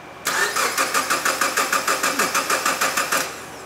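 A car engine cranking on the starter during a vacuum gauge test with the throttle plate open, a steady run of about fifteen rhythmic, even compression pulses, close and loud, with no talk over it.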